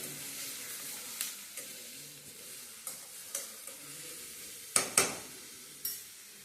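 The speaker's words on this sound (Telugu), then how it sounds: "మంచిగా ఫ్రై చేయండి, నీట్గా బాగా వేగనివ్వండి." Potato curry ingredients frying in a pan, a soft steady sizzle punctuated by distinct spoon knocks and scrapes against the pan at irregular intervals, close up with no talk.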